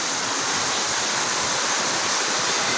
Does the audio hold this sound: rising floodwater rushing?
yes